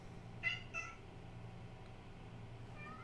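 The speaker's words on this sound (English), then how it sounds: "my cat, he's out there asking for my attention" A pet cat meows twice in close succession, clear and fairly near, over a low steady hum of room noise, with a faint third cry near the end.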